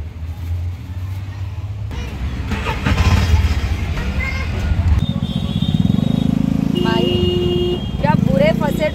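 Heavy road traffic near a bridge in Jogeshwari, Mumbai, with motorcycles and cars idling and revving close by and horns beeping, under ongoing talk.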